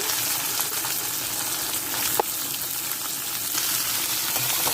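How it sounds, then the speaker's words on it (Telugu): Green chillies and onions frying in hot tempering oil for a curry-leaf tamarind stew, a steady close hiss and crackle running throughout with a faint clink partway, no talking. "బాగా వేగిపోవాలండి బాగా ఎర్రగా వేగిపోవాలి"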